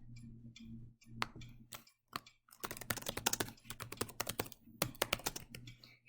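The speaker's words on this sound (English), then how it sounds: "Type me a message and press send." Keys clatter on a computer keyboard as a message is typed, bursts of quick close clicks separated by short pauses, quiet and alone over a faint low hum.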